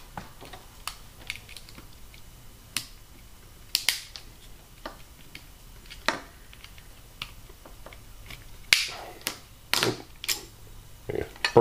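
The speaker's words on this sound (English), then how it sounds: "Broke the tab off there." Sharp snapping and clicking as a plastic tab is broken off a battery cell casing, a string of brief crisp cracks and ticks that cluster and grow louder toward the end.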